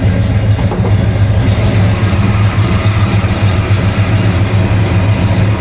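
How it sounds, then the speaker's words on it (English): A 1971 340 V8 engine in a 1991 Dodge Dakota idles steadily, with a loud, deep, rumbling lope throughout and no talking. "1971 340 in all its glory in 91 Dakota"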